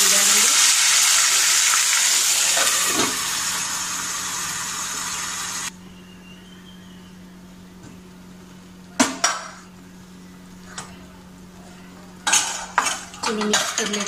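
Kaju curry gravy with garlic paste in a pan: a long, loud sizzle at first, then quieter simmering broken by sharp clinks and scrapes of a spoon stirring against the metal.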